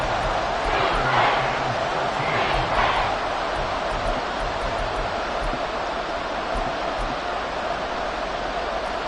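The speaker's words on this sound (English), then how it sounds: "This crowd turning up the decibel level." Stadium crowd in a Madden football video game roars loudly and steadily throughout, a dense continuous cheer with swelling surges in the first few seconds and no clear speech above it.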